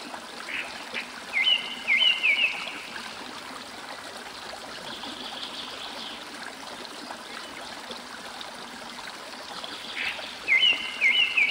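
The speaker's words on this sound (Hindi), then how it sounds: "ये नेचुरल झरना है, ये पानी का जो बहाव है वहाँ से शुरू हो रहा है" A natural waterfall stream runs steadily near a lake, giving a constant soft rush of flowing water throughout, with a few brief bird calls rising above it near the start and end.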